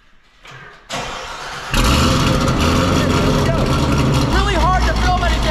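A Corvette C7 engine cranks and catches, then roars into a loud, rumbling idle that stays strong and steady close by.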